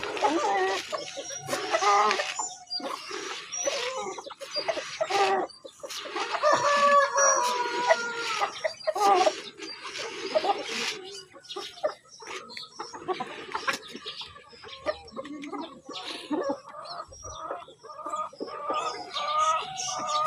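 Chickens cluck steadily in a farmyard while a one-eyed cockerel crows, the calls overlapping and moderately close, with rustling in the background.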